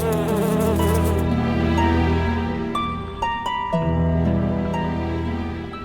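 A swarm of bees drones in a dense, continuous buzz, loud and close, with layered wingbeat tones rising and falling over a steady low hum and no voices.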